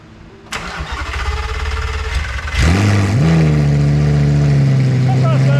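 Lamborghini Gallardo V10 with no mufflers fitted cranking and firing up loudly, a sharp bark settling into a steady, raw, rumbling idle; people talk faintly before it catches.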